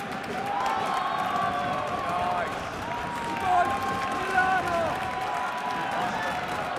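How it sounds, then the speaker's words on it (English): A large stadium crowd cheers and applauds before a grand final football match in a video game. The roar is steady, broad and distant, with a few louder swells, and an excited commentator talks over it. "An incredible crowd reception for both."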